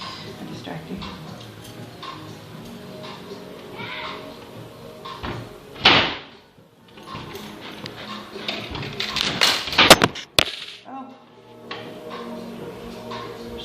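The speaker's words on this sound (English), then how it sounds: "I'm going to close my window." A home window slides shut with a rising rub, a sharp thud, then a rattling clatter, while a person talks and birds chirp outside.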